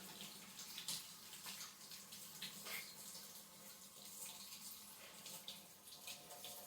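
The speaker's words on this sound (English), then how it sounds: "let me wash my hands" Hands being washed under a running kitchen tap while cooking chicken marsala, a faint steady stream of water with small splashes and no talk.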